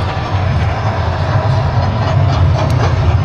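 A train rumbling along at speed, with a loud, steady low roar and a faint clatter of the wheels on the tracks.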